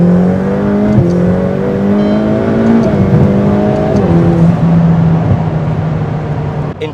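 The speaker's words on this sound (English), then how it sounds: "you're going to hear the turbo whistle in a few seconds." A Ferrari F8 Tributo turbo V8 on the road, a steady loud engine drone with a rising whistle-like whine that dips at gear changes, heard from inside the car without talk.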